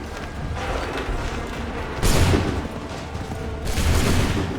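Musket volleys in Assassin's Creed 3 erupt on command as two loud, ragged bursts of gunfire, a couple of seconds apart, each followed by a rolling boom over a constant battlefield din.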